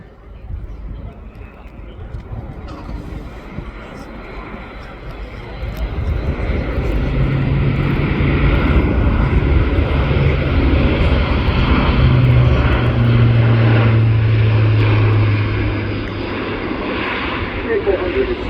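An Airbus A400M military transport, a large four-engine turboprop, flies a display at the RIAT airshow. Its loud engine roar swells and holds steady with a droning propeller hum, then eases slightly as it passes.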